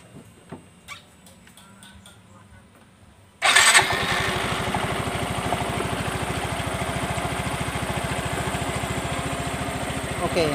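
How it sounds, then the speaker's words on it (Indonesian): Yamaha Mio M3 125 motorcycle engine being started after repair of a rough knocking noise, a sudden loud catch followed by a steady, even idle close by that runs on to the end, with quiet handling noises before. "Sekarang kita hidupkan lagi mesinnya"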